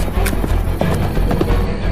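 Galloping horse hooves pounding in a dramatized telling of The Legend of Sleepy Hollow, loud and close with a quick, driving rhythm against a noisy background.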